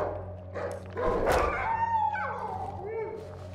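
Dog barks in the survival horror game Darkwood, a few short yelps and a whine over a steady low ambient drone, with someone talking over parts of it.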